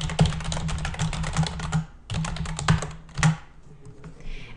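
A computer keyboard clatters with quick, close keystrokes in two bursts separated by a short pause, then a few final taps.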